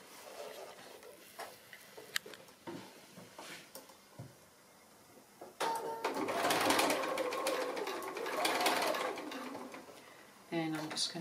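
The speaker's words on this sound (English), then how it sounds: "I'm going to do it on the sewing machine." A sewing machine stitches in a fast mechanical whir, starting and stopping in bursts, with faint clicks and handling noises between runs.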